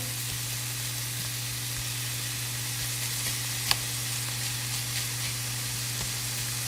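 Ground meat for ancho BBQ sloppy joes browns undisturbed in a hot pan, a steady low sizzle and hiss running evenly throughout, with one brief sharp tick partway through and no talking.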